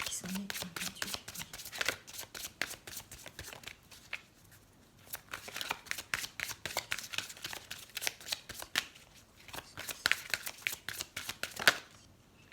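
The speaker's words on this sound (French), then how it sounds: "je vais prendre qu'une seule carte" Tarot cards being shuffled and drawn, a rapid series of crisp riffling bursts and flicks with short pauses between, close and clear with no talking.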